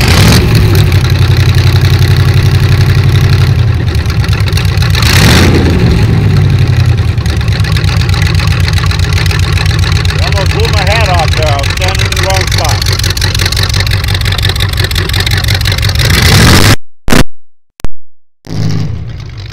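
A 1923 Ford Model T extended T-bucket hot rod engine runs loudly at a steady idle for a long stretch, then cuts off abruptly near the end.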